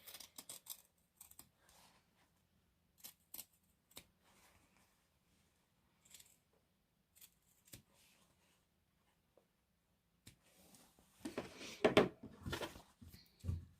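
Scissors snip fabric corners close to stitching, producing scattered short crisp clicks and cuts that are quiet and close, then a denser, louder burst of rustling snips near the end.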